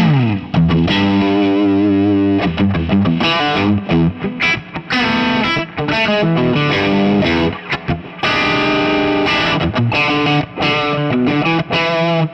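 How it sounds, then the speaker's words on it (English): Crunchy, overdriven electric guitar played through a vintage Marshall tube amp with built-in reverb, with chugging chords and bursts of single notes, loud and close with a touch of reverb. "I think the amp has a really good crunch factor to it."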